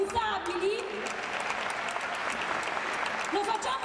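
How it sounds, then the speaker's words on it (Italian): A crowd claps steadily in dense, sustained applause, with a few voices and cheers rising above it. "Vogliamo fare un applauso ai nostri responsabili?"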